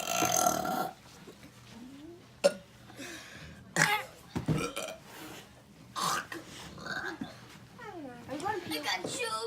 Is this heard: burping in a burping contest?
yes